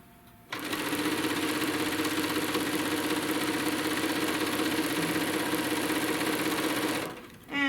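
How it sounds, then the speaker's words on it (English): Sewing machine stitching through a crochet bag panel, starting abruptly and running as a loud steady rapid whir for about six seconds before slowing and stopping. "we're going to sew, and we're going to go all the way through, and then back stitch."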